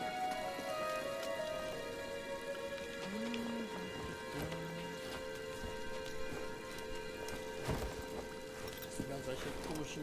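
Steady rain falls throughout a Star Wars Jedi: Fallen Order level, a constant dense patter in the background, with a few brief tonal game sounds drifting over it.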